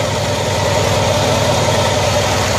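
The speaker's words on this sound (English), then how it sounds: "18 horsepower horizontal opposed air-cooled V-twin" A 1974 Cushman Truckster with an 18-horsepower air-cooled horizontally opposed two-cylinder engine idles close and loud in a steady, even low chug that runs without pause.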